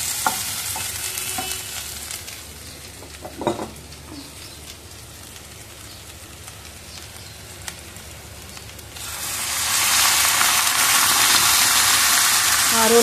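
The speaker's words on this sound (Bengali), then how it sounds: "তো জল ঢেলে দেবো এবার আমি।" Water poured into a pan of frying green chillies erupts into a loud, steady sizzle that starts abruptly and keeps hissing to the end, after a quieter stretch of soft frying with a few clinks.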